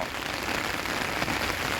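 Light rain falls steadily outdoors at a forest temple in Udon Thani, Thailand, a soft even patter of drops on surfaces with no voices, continuous and fairly quiet throughout.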